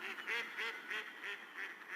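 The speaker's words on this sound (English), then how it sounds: "It's a mother duck and her babies." A mother duck quacks with her ducklings nearby, giving a steady run of five or six nasal quacks at an even rhythm, close and clear over a quiet background.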